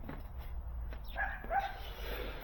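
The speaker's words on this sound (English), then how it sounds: "Let's see what Ruby's barking at" A dog gives a few short, faint barks and yips midway through, somewhat distant, over a steady low background hum.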